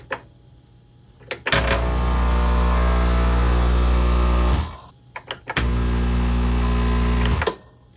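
Breville Barista Express espresso machine running after being plugged in, giving a loud steady electrical hum for about three seconds, then a short pause with clicks before a second hum cycle starts and cuts off.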